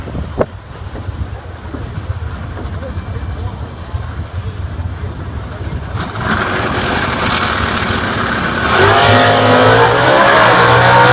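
Engines rumble and then roar louder as two drag racing cars rev and launch at the U.S. Nationals, the noise building in two stages to a loud, high-pitched blast.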